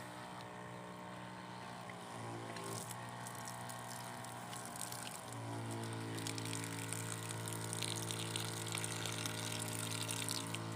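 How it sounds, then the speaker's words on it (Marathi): A pair of battery-charging pump motors draws water straight out of a barrel on a farm, giving a steady whirring hum with rushing water that grows louder and fuller partway through as the second motor kicks in. "डबल मोटर चालू केली का फुल स्पीडनं पाणी येतंय."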